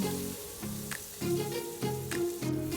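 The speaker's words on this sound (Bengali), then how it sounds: "বড় চিংড়ি মাছগুলো ভেজে নিচ্ছি" Steady hiss of large prawns frying in a pan, with soft crackling and a few brief clinks over a rising and falling sizzle, close up.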